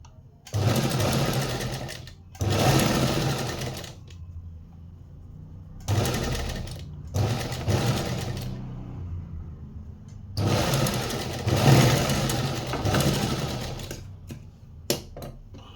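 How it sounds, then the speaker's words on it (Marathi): An electric sewing machine stitches a blouse cup, running in several loud whirring bursts of a few seconds each, separated by pauses with soft handling sounds. "आपल्याला तिथंच थोड्याशा अंतरवरती शिलाई मारून घ्यायची आहे"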